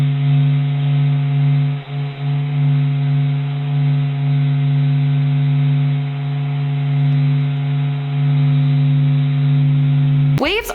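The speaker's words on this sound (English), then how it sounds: "This is the sound of the sun." Sonified recording of sound waves travelling inside the sun, a loud steady low droning hum with layered tones, continuous and unchanging, ending with a brief burst of noise.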